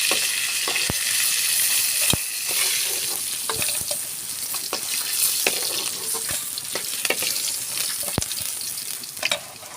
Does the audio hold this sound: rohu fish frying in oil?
yes